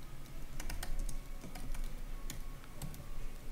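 Someone typing on a computer keyboard indoors, a quick irregular patter of key clicks close by, fairly quiet over a low background hum.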